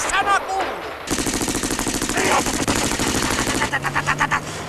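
Rapid bursts of gunfire from a scene in the 1967 Finnish comedy film Pähkähullu Suomi, with loud, dense shots rattling in quick succession like a machine gun for most of the clip, after a brief opening of voice-like sound.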